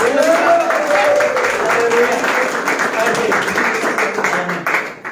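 Applause from a church congregation at a Sunday service, a dense run of claps with a voice rising over it, tapering off at the end.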